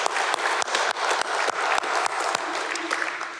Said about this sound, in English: some virtual applause here